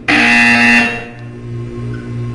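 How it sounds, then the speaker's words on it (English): A loud, harsh electronic buzzer from the video game Portal 2 blares for about a second, then fades into a lower, wavering hum. "You will hear a buzzer."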